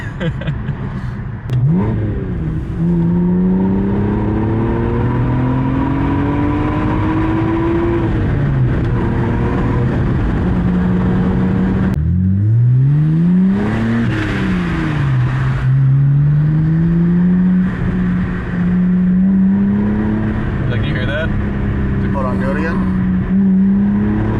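BMW E90 with N52 inline-six and muffler delete revs repeatedly, engine note rising and falling in long loud sweeps, close and prominent with brief pauses between pulls.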